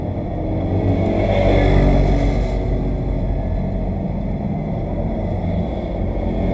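A NASCAR stock car engine at Texas Motor Speedway roars loud and steady from inside the car, a dense continuous rumble with slight swells in pitch as the motor holds speed.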